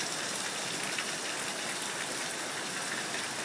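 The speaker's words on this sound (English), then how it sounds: "It is just raining like crazy." Heavy rain pours down in a steady, dense hiss, loud and unbroken throughout, with no voices.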